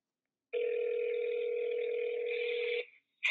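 Steady telephone dial tone on an iPhone call, a continuous two-pitched hum holding clearly for about two seconds before cutting off, with a brief tone starting again at the end.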